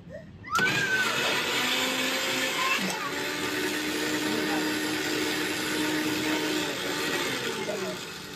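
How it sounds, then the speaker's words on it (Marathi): A kitchen mixer grinder switches on abruptly after a moment of quiet and runs with a loud, steady whining roar that continues to the end, with a voice faintly heard beneath it. "चालत्या मिक्सर मध्ये मम्मा आगी घालते"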